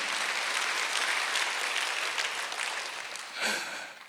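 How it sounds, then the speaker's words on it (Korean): A church congregation bursts into applause during a Sunday worship service, a dense steady clapping that fills the room before slowly tapering off, then swells briefly once more near the end. "박수 한번 주세요."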